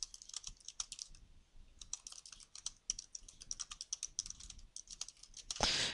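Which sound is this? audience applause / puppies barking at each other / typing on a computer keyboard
typing on a computer keyboard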